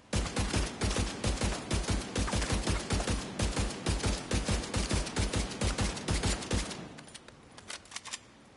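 Rapid rifle fire from a Merciless rifle build in the shooter game Division 2, a long steady burst of close, loud, evenly spaced shots lasting about six seconds before cutting off, followed by faint scattered clicks.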